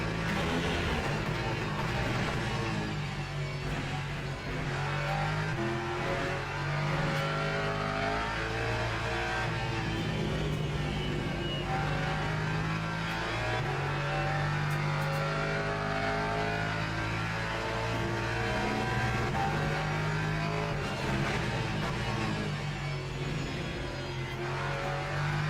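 Racing engines in the Le Mans Ultimate sim at Barcelona, with LMP3 prototypes in the field, drone continuously and loudly through shifting revs and gear changes, layered cars running close together with no break in the sound.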